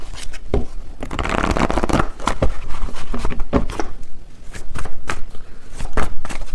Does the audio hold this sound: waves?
no